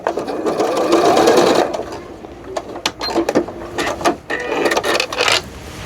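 A faulty sewing machine that keeps clunking runs in steady bursts while sewing fabric for a glasses case or pencil case, its rapid mechanical stitching rattling close by with brief pauses between runs.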